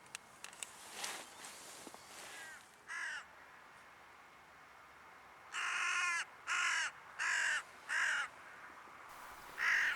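Hooded crow calling outdoors on a hillside near a field: a short caw, then a run of four loud, harsh caws in quick succession and one more at the end, with faint rustling and scattered small clicks earlier.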